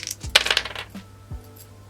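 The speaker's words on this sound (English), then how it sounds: "I'll just roll the dice." Dice rolled during a cash-stuffing savings challenge tumble and clatter briefly on a hard surface, one quick burst of sharp clicks followed by a couple of soft knocks, close and fairly quiet with no talking.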